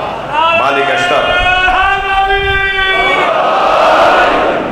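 Crowd at a Muharram majlis chanting slogans together, a loud, sustained massed chorus of voices with held, tonal cries over the full length.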